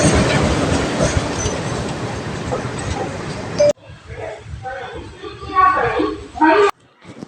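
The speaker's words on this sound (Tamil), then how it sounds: "இதுதான் பார்த்தீங்கன்னா எங்கள் ட்ரெயின்" Passenger train running, loud rumbling rail noise with rattling wagons for several seconds, then quieter carriage interior with voices talking over a low hum.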